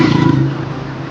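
A motorcycle engine catches and runs up close, a loud rough rumble that swells briefly at first and then settles into a steady idle for about a second, with no voices.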